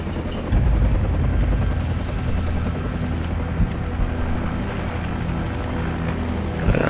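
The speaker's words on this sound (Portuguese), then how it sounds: "Helicóptero." A helicopter in Call of Duty 4: Modern Warfare, in the Chernobyl and Pripyat mission, keeps up a loud, continuous rotor drone with steady thumping throughout, and nobody speaks.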